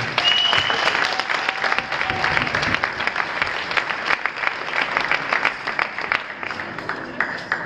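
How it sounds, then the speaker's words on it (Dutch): Sustained crowd applause for youth under-12 indoor football teams at a tournament prize ceremony, dense steady clapping filling the whole stretch with a few faint voices beneath. "En voor winnaars mag je uiteraard een applaus geven."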